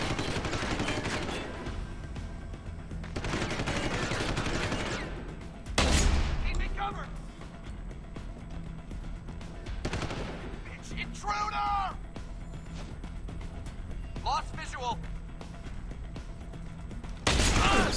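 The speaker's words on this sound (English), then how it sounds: "Suppression fire on him." Suppression gunfire in Deus Ex: Human Revolution comes in loud sustained bursts of automatic fire, broken by short gaps with mechanical clatter, close and dense across the scene.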